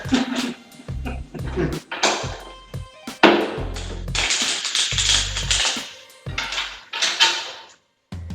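A deck of interview question cards is shuffled in repeated quick bursts of riffling and tapping, close and crisp, with brief pauses between handfuls.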